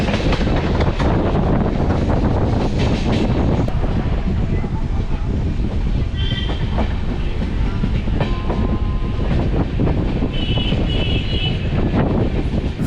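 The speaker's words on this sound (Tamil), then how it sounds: "சேலம் ஜங்ஷன்லேருந்தும் இப்போ ட்ரெயின் கிளம்பிடுச்சு" Steady, loud rumble of the Chennai–Mangalore Super Fast express pulling out of Salem Junction, heard from aboard, with continuous rolling wheel noise, rhythmic clickety-clack over rail joints and rushing wind, with no gaps.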